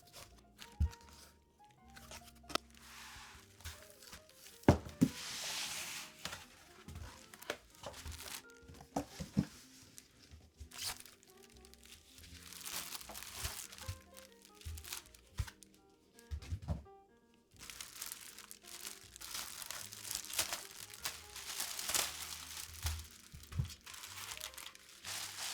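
New PC parts, including a DeepCool CH160 case, being unboxed, with plastic and cardboard packaging crinkling, tearing and crunching in bursts close by. No one speaks.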